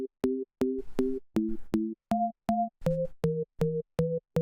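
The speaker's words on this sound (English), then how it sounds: "they all kind of create the organ sound" Organ-like synth tones built from stacked sine waves at different pitches, played as a series of short, evenly spaced chords that step through several pitch changes, clean and alone.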